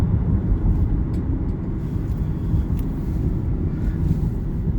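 A 2012 Infiniti FX35 with a V6 engine driving on a road, heard from inside as a steady low engine and road rumble mixed with wind buffeting.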